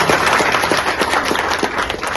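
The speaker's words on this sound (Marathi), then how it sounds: "हे सरपंच झाले म्हणून यांच्यासाठी जोरदार टाळ्या आपण वाजवल्या।" An audience claps loudly and densely for a newly elected sarpanch at a Dighode gram panchayat election gathering, a close, continuous burst of applause.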